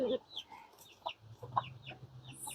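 Chickens cluck near and fairly loud in short irregular bursts, a hen with chicks among the flock close to a rooster, over a steady low farmyard hum.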